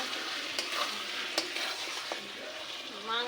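Meat stirring and frying in a home kitchen pan, a steady close sizzle broken by a few sharp scrapes of the spoon against the pan, with no talk over it.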